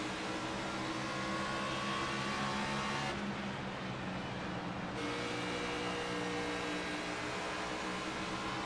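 Race car engines roaring steadily at Bristol in NASCAR 25, a dense, continuous droning pack of Xfinity Series cars close by, with a brief muffled dip midway.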